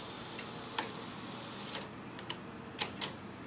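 A 1986 Sony SL-HF450 Super Beta Hi-Fi VCR, a front loader, takes in a tape with a string of small mechanical ticks and clicks spread irregularly over a faint steady hum.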